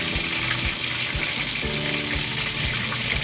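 Salted egg sauce for shrimp frying in a pan, a steady loud sizzle with crackling bursts that runs the whole time, close up and with no talking.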